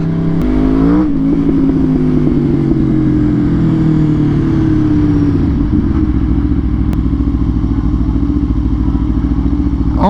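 An Aprilia RSV4 1000 cc sport motorcycle rides along a street, its loud, close engine rising in pitch through a couple of revs and then settling into a steady, rough drone.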